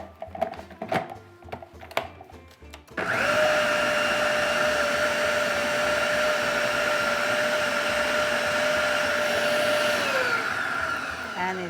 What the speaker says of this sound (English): I'm going to quick blend it